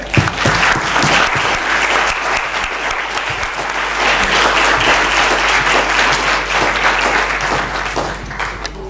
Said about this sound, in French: un tonnerre d'applaudissements pour Denis Père